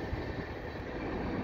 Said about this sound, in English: Looks like the end of the train with that yellow bulkhead flat car